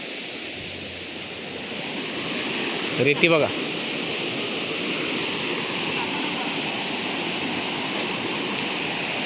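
A river in a village runs in a continuous, even rush close by, with a short burst of nearby speech partway through and the flow steady throughout.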